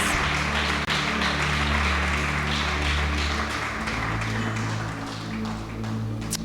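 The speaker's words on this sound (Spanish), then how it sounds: "denle un fuerte aplauso a Dios" Church congregation applauding at a Nazareno Siloé service: steady, dense clapping from many hands under sustained music, fairly loud and continuous throughout.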